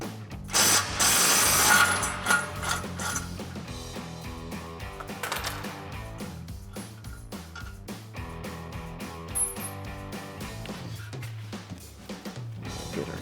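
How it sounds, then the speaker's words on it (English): An impact wrench with a 21 mm socket removing brake caliper mounting bolts on a Ford F-150, with loud rattling hammering bursts at the start, then quieter ratcheting clicks and metallic handling noises. "So we've got our 21 mil socket on our impact. We'll remove the mounting bolts for the caliper"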